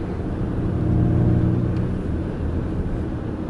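A 2021 Ford Mustang Mach-E electric car accelerating hard, giving a steady whirring drive hum with road and wind roar that swells briefly and then holds, with no voices.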